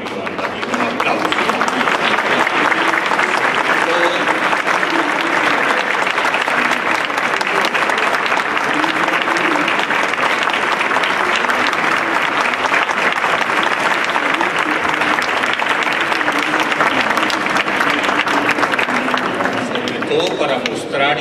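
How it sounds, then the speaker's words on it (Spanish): Sustained, dense applause fills a hall at a book fair panel on ethics and citizenship, many hands clapping steadily and loudly for about twenty seconds without a break. "se merecen con Iván Darío un aplauso."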